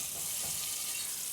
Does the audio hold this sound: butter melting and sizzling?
yes